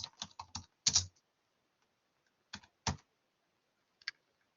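Short bursts of keystrokes on a computer keyboard as an SQL query is typed, a few quick clustered taps, then pauses and isolated clicks, close and fairly quiet with no talk.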